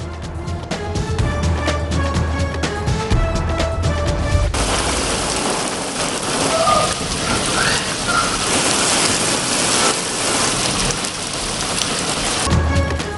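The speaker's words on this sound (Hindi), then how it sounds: "शिमला पहाड़ी, मुगलपुरा, जोड़ेपुल, समनाबाद, इस्लामपुरा, लक्ष्मी चौक में तेज बारिश।" Heavy rain pouring down in Lahore, a dense steady hiss of drops on surfaces that fills the whole stretch, with a few seconds of music at the start and end and no talking.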